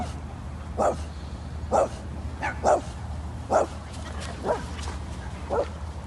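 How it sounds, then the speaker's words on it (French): Dogs bark outdoors on a beach, about six sharp, separate barks spaced roughly a second apart at moderate distance over a steady background hum of wind and surf. "Ah bah, il y a des chiens là-bas."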